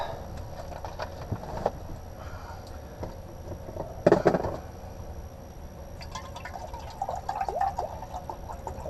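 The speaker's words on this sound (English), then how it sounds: "so I'll fill this up to where I like it, then a bit more just to allow for evaporation" Bottled water poured into a cup inside a truck cab, a faint trickling fill in short bursts beneath a steady low rumble of background noise.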